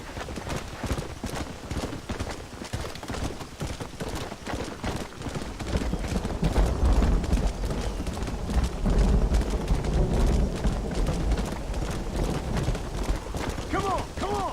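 A horse gallops in the video game Red Dead Redemption with a steady, rapid clip-clop of hooves and some creaking tack, and a voice is heard partway through.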